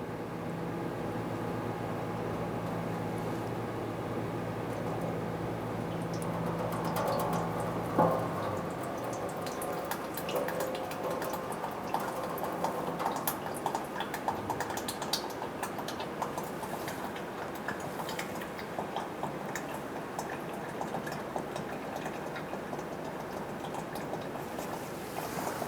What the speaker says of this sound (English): We're starting to slowly drain here.